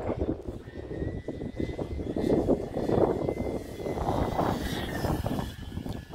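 A Dynam B-26 Marauder twin-engine RC warbird plane with flaps flies past outdoors, its propellers giving a moderate, wavering drone that swells and fades in the wind with steady rushing noise and no talking.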